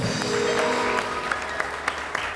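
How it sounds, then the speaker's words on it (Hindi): A studio audience at a Hindi-language television comedy show claps together, a dense, steady patter of applause close by that holds for the full couple of seconds without talk. "तालियां बजाएं आप"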